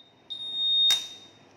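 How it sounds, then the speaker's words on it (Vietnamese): A Honda Vision K44 motorbike's key system gives one sustained high electronic beep lasting under a second, ending with a sharp click, close and clear in a quiet room. "Tít tít thế này biết cái nào chết luôn."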